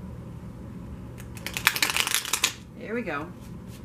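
A deck of tarot cards is shuffled in quick, crisp riffling bursts lasting about a second, with a person speaking briefly just after.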